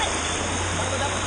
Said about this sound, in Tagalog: Ito na po yung mga falls ng Kalakwatsa.